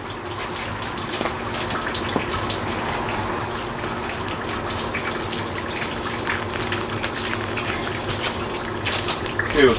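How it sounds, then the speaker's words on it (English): A garden hose sprays water steadily outdoors in a garden, a continuous broadband hiss and splatter running the whole time at moderate, even loudness with no voices. "Turn the hose on and give it a squirt."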